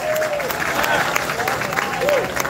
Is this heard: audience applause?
yes